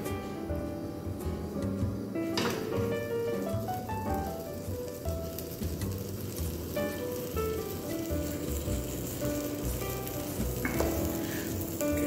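An egg frying in a heated pan for a simple egg sandwich gives a steady crackling sizzle with sharp spitting pops throughout, close and continuous, no voices.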